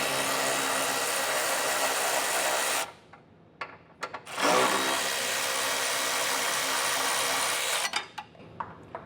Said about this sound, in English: It's going to be these two bolts, 13mm socket to get this accomplished. We'll loosen these up and move our bracket.